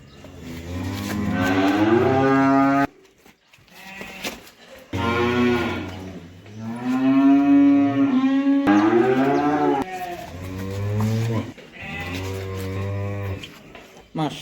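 A Holstein Friesian heifer calf moos loudly and close by, giving about four long, drawn-out calls separated by short pauses.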